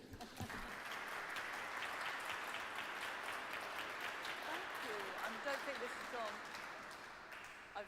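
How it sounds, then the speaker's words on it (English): Audience applause welcoming a speaker to a talk, a sustained wash of clapping from a room full of people, rather faint overall, with brief voices near the end. "let's welcome Ruth and with a big applause"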